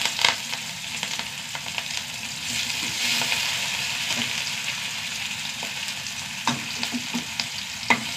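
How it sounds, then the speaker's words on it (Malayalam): Small onions fry in hot coconut oil with fenugreek seeds and curry leaves, making a loud, continuous sizzle with spatula stirring scrapes and a few sharper taps near the end and no speech. "ഉള്ളി നന്നായി മൂത്ത് വരട്ടെ"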